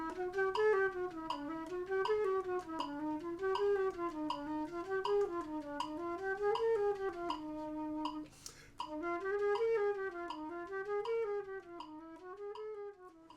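Flute playing the first Taffanel-Gaubert daily exercise, quick rising and falling scale patterns repeated in a steady rhythm, close and alone, with a short break near the middle.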